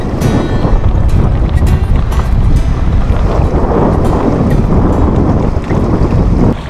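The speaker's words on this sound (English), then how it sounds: "Got some good wind this morning." Strong wind buffets a pocket yacht sailing north up a channel, a loud, steady roar of gusts across the microphone with water wash beneath, continuous throughout with no talking.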